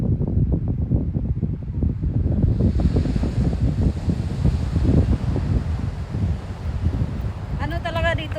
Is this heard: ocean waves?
yes